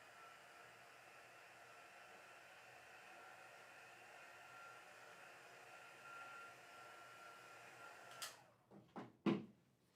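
A heat tool or dryer runs steadily at moderate level, drying a stamped craft project, then cuts off and is followed by a few louder handling knocks and clunks near the end.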